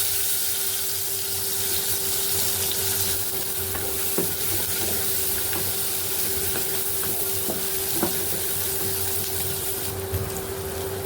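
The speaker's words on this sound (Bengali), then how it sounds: "এখন একই তেলের মধ্যে পেঁয়াজ এবং রসুন কুচি দিয়ে দিব।" Chopped onion and garlic frying in oil in a pan on the stove, a steady, close sizzle with occasional light clicks from stirring, and no voices.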